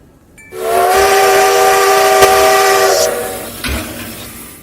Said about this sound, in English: No, Chico, Bessie Lou is the name of the locomotive.